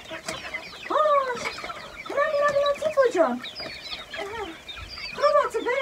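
Hens and chicks at feeding time cluck and call repeatedly in a close, lively chorus of rising and falling squawks, while someone speaks softly to the birds between the calls.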